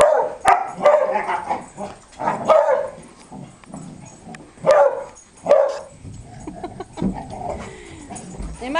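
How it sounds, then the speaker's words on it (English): Several dogs, including a beagle, play-fighting with a rough mix of sharp barks, yips and growls, bursts coming in quick irregular clusters, close and fairly loud, with whimpering squeals between. "They might look a little bit rough, but they are just playing, dog fighting."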